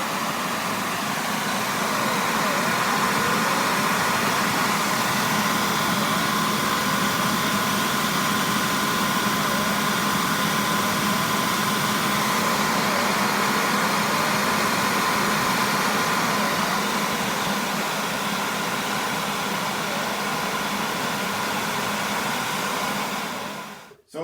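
A JetCentral turboprop turbine engine runs steadily after start-up, producing a loud continuous high-pitched whine and rushing roar that holds for over twenty seconds before cutting off abruptly.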